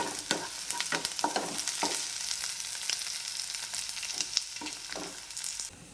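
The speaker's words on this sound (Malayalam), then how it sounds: "പാനിലേക്ക് വെളിച്ചെണ്ണ ഒഴിച്ചു കൊടുത്തിട്ടുണ്ട് ചൂടായിട്ടാകുമ്പോൾ നമ്മൾ ഉള്ളി അതിലേക്ക് ഇട്ട് കൊടുക്കുക" Onions sauté in hot coconut oil in a pan for a chickpea curry, with a steady close-up sizzle broken by repeated scraping stirs of a spoon, and no voices.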